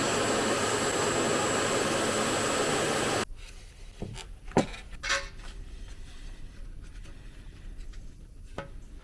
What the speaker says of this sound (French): On va passer l'aspirateur.